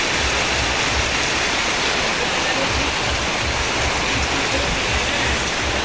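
Steady heavy rain in a village in Mirzapur, a dense continuous rushing hiss that stays loud and even throughout, close and unbroken, with no clear voices above it.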